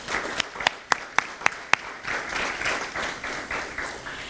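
An audience at a chamber of commerce lunch breaks into applause, starting with a few sharp individual claps and swelling into a dense, sustained round of clapping from a crowd.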